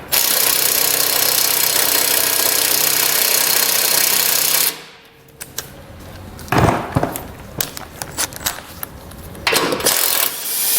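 A socket tool removes 15mm bolts from the bumper horn of a 2021 Jeep, giving a loud, steady mechanical whir for several seconds, followed by quieter scattered clicks and a few louder bursts.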